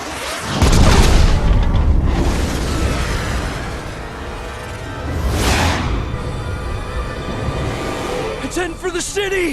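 A missile destroyed in a loud explosion in Resident Evil 6, a deep booming blast followed by further rumbling bursts and whooshes, with voices talking over the action.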